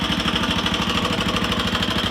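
A 1999 Honda XR200R dirt bike engine idling nearby, a steady fast thumping putter with an even mechanical rhythm, loud and continuous with no voices over it.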